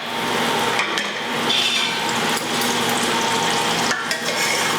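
Chorizo sausage frying and browning in a pan: a loud, dense, continuous sizzle close up, with occasional knocks and scrapes of a utensil stirring, and no talking.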